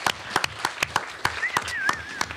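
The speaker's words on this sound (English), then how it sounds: "Please give her a round of applause." Scattered audience applause at a White House Initiative on AAPI youth roundtable on teaching: sharp, uneven claps at moderate loudness, with a thin whistling tone drifting through the middle.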